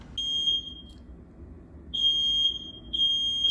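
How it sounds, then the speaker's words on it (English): A smoke alarm sounds indoors, unprompted, with sharp high-pitched beeps in a repeating pattern: a long tone, a pause, then further tones over a low background rumble. "So this is what I'm doing as the smoke alarm is going off."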